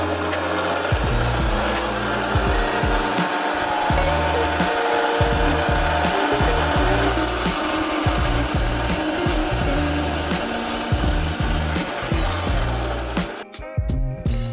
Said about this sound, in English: I do love that saw.